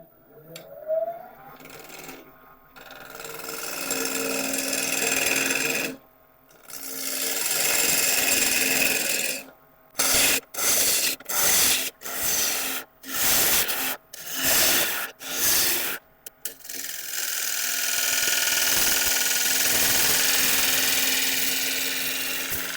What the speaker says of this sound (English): We can start turning this time at 1270 RPM.